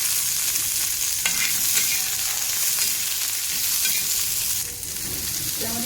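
Stuffed bitter gourds roast in a spoonful of oil in a pan with a continuous close sizzle, broken by the scrape and clack of stirring and a brief louder scrape near the end; no talking.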